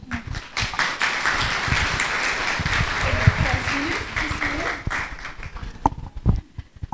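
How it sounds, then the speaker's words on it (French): An audience at a youth church conference applauds to welcome a speaker, with dense crowd clapping over several seconds that thins toward the end, with voices underneath. "Et ce soir, sous vos applaudissements, accueillons Yashna."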